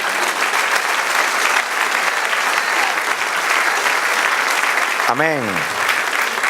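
A church congregation applauds during a Spanish-language sermon, a loud, continuous crowd of clapping hands, with a voice briefly speaking over it near the end.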